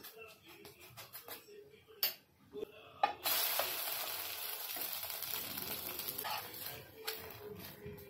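Instant rava (semolina) dosa frying in oil on a hot pan, a steady loud sizzle rising after a few clinks and scrapes, continuing close up with faint handling noises.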